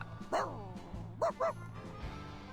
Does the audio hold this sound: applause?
no